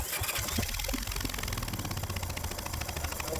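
A small engine on a shed-stored machine being cranked over during a spark plug test, a dense continuous buzzing churn for about three seconds, close and fairly loud with no talking.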